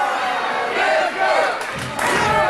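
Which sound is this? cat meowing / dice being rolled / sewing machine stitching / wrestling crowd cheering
wrestling crowd cheering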